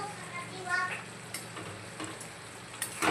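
Butter chicken sizzling gently in a covered pan over low heat, a soft steady crackle broken by a few brief louder pops and bursts.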